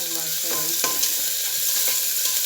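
Onion added to garlic already browned in hot oil in a pan, giving a close, steady sizzle with light stirring and scraping, while people talk over it.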